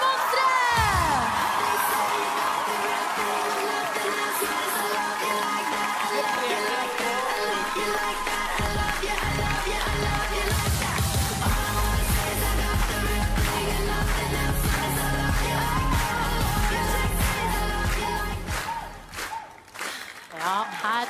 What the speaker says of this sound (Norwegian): Og nå, gi en stor applaus til vinneren av Maskorama, Snømonstre!